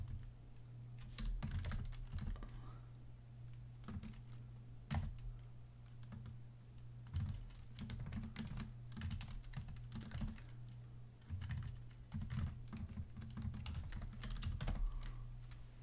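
Computer keyboard typing during a math homework session: quick bursts of close key clicks in an uneven rhythm over a low steady hum, with no talk.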